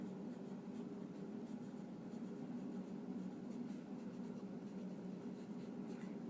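Pen scratching steadily on paper during a math lesson, a soft continuous scribbling texture with faint, irregular strokes, close and quiet with no voices.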